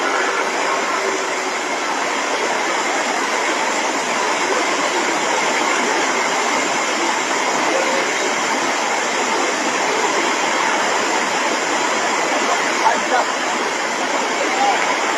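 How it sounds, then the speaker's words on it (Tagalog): Flood water rushes past and over a bridge in Oroquieta City during a Christmas Day flood, a continuous loud roaring wash with no breaks, heard close up. "Milapas na gyud ang tubig sa baha"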